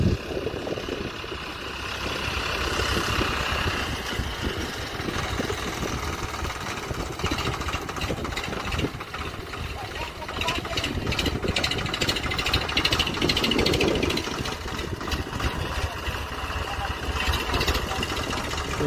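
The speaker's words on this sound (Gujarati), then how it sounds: "આમાં હવે ટ્રેક્ટર એમ ઉરવાનું એમ ચાલુ કરી દીધું છે" A tractor engine runs steadily throughout while fertilizer is sown in furrows of a cotton field, a continuous diesel drone with a rough, knocking texture at moderate loudness and no pauses.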